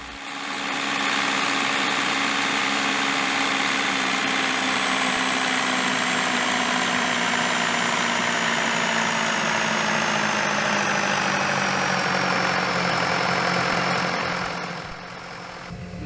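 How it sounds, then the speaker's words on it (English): An engine idles steadily at low RPM while hooked to an engine simulator and control panel, a continuous even drone that holds for about fourteen seconds and then drops away. "the engine will sit at the idle RPM for that period before the engine is shut down"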